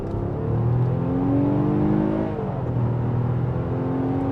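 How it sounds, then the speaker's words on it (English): A 2025 Nissan Pathfinder Platinum's engine revs up through the range in second gear on throttle, a loud, steady rising drone that climbs and briefly dips before pulling again, heard from inside the cabin. "Second gear, we'll run it through the rev range on the gas."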